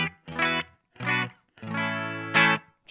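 A Fender Stratocaster played through a clean amp channel with the reverb fully off, giving a dry tone: a few separate plucked notes and chords, each ending abruptly with no tail, moderately loud and alone.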